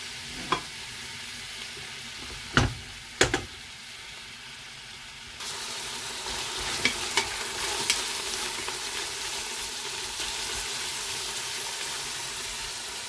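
Onion frying in hot oil in a pot, a steady close sizzle that rises after a few sharp clinks and knocks of utensils, with no talking.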